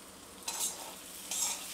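Potatoes cooked in spicy masala for a batata kalvan are stirred in a pan, giving two short scraping bursts over a soft, continuous sizzle at close range.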